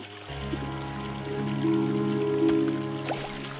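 Water being collected in the video game Clock Tower 3, a steady trickling, filling sound over a low sustained hum, with a few faint drips and clicks near the end.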